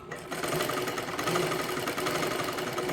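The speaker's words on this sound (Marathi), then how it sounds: "अशा पद्धतीने आपल्याला शिलाई करत करत वरती घ्यायचं आहे" A sewing machine stitching a princess blouse runs in a fast, steady mechanical whir with rapid rhythmic needle clatter, close and continuous for the whole stretch, with no talking.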